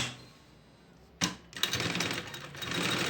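A sewing machine starts up after a brief click, then runs in a rapid, steady mechanical whir as it stitches a seam on a lunch bag panel, close and fairly loud.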